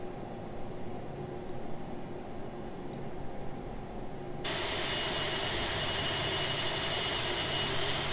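Aerosoft Airbus A330 jet engine in Air Transat livery runs in the Prepar3D v4.5 simulator: a low steady hum that abruptly jumps into a much louder, broad hissing roar partway through, then holds evenly.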